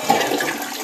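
A newly installed toilet flushing, a steady rushing swirl of water heard up close and loud for a brief moment, alone without voices.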